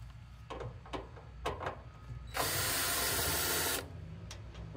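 A screw is backed out of the front panel of a Mr Cool mini-split condenser: a few scattered clicks and taps, then a steady, loud whirring burst of about a second and a half from a powered driver, close by.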